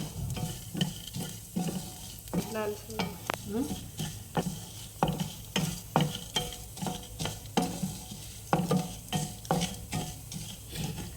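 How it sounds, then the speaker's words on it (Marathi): Lentils and rice dry roasting in a pan for medu vada and sambar, stirred in a steady rhythm of dry rustling scrapes and soft taps against the metal, close and moderately loud. "हे आपण आता खमंग भाजून घेणार आहोत"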